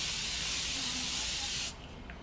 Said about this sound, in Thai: ก่อนแต่งหน้าเราก็จะฉีดสเปรย์น้ำแร่ค่ะ